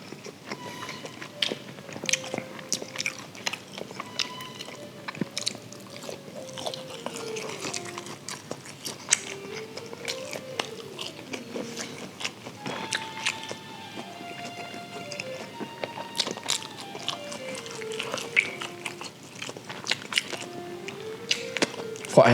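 KFC chicken balls being eaten, heard as repeated close bites and chewing with soft squishy mouth sounds. A voice talks over the eating the whole time.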